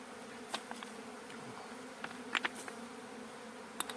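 Honeybees building comb in a sheltered nesting space hum in a steady, close drone, with occasional sharper buzzes as individual bees pass near.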